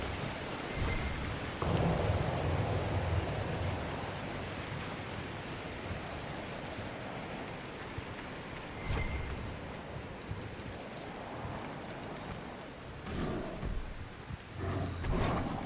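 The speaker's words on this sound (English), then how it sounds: "Because it's a storm course, it's always raining. The rain just never ceases." Constant rain with rumbling thunder on a storm course in a video game, a steady wash of rainfall with deep low rolls of thunder swelling and fading under occasional faint game sounds.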